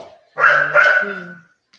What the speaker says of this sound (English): You want to take these dogs to the pound?